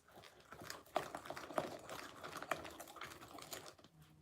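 A whisk beats madeleine cake batter in a bowl for a few quick strokes, giving close, scratchy, rhythmic taps and swishes that sound briefly and then stop.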